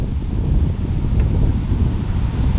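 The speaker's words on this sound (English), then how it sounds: "I'm really sorry about this wind." Strong wind buffets the microphone at a lakeside fishing spot, giving a steady, loud low rumble that runs unbroken through the whole clip.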